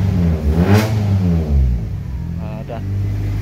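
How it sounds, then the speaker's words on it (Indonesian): An LPG-fuelled car engine revs up and falls back through a loud exhaust in a noisy room, the rev swells rising and fading close by while people talk over it. "knalpotnya keras tuh kayak mobil balap"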